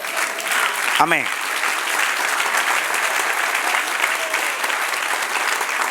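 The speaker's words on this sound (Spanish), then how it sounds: "Dale un aplauso, Señor." A church congregation applauds during a Spanish-language worship service, a dense, steady wash of clapping that fills the space from start to end, with a single voice briefly calling out near the beginning.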